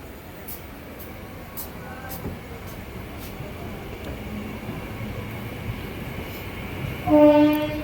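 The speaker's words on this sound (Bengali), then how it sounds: "আজকে নেতৃত্বে রয়েছে হাওড়া লোকোসেডের ডাব্লিউপি নিউ লোকোমোটিভ দুটোই একসঙ্গে ছাড়লো" Two Azimganj passenger trains hauled by Howrah-shed WP locomotives pull out together from Murshidabad Junction with a steady low rumble, and a loud horn blast sounds near the end.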